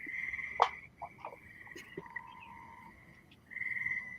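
Frogs calling close by in a quiet outdoor night setting near a worksite, with repeated short croaks and a sustained trilling chorus that swells loudly at the start and again near the end.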